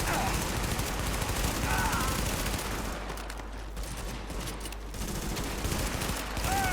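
Sustained automatic gunfire in the video game The Division fills the whole stretch, dense rapid shots blending into a loud, continuous barrage.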